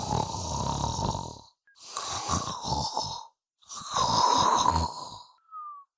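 Loud snoring in three long, rasping breaths separated by short pauses, close and prominent with no talk over it.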